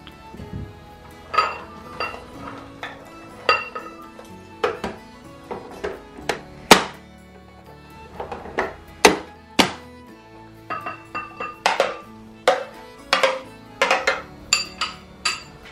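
Onions and tomatoes being chopped in a kitchen chopper, producing irregular hard clacks and thunks with plastic and metal knocks, some in quick bursts, close and loud with no talking.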